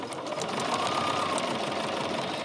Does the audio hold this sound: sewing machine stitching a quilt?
yes